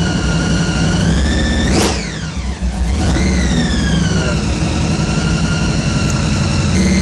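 An American muscle car engine runs with a loud, steady droning rumble. It swells into a sharp rev and dips back down mid-way, then settles into a constant, close idle.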